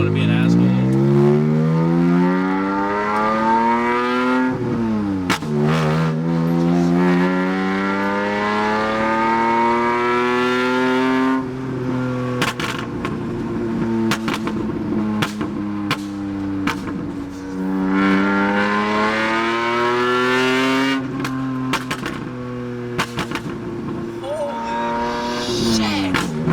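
A BMW M3 GTR engine revs up and down through long rising and falling sweeps, loud and close, with crackles and pops from the exhaust at light throttle.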